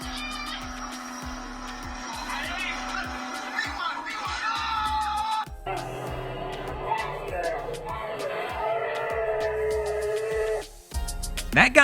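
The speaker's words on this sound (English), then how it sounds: "That guy's scream makes me laugh every single time." A man screams during a jet ski launch at a boat ramp, a loud voice cry running through the clip amid splashing and engine noise, with a sharp burst near the end.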